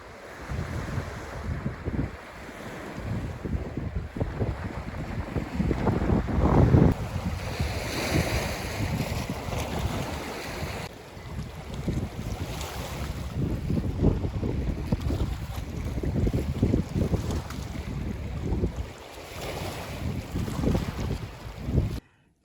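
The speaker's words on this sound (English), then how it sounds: "the wind has really come up. There's tons of waves on the lake." Strong gusting wind sweeps past a lake while waves surge and break against the shore, with heavy buffeting across the microphone throughout and no voices.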